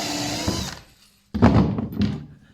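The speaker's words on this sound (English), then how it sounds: "Countersink a few screws in here." A power drill drives countersunk screws into a wooden workbench, two short whirring bursts separated by a brief pause, fairly close and moderately loud.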